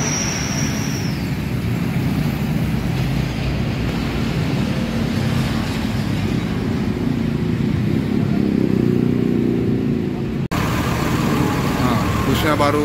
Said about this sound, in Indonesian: busnya baru dinyalain sama pengemudinya, Bang Bobby namanya